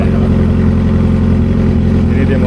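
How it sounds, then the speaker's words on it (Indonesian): A naked adventure motorcycle rumbles steadily nearby with a loud, even low-pitched engine drone that fills the whole moment, while a voice speaks over it. "Ini dia motor ini."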